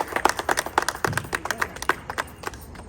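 Several family members clap hands at a home celebration, a quick run of sharp, fairly regular claps with a faint tonal sound behind them and no talking.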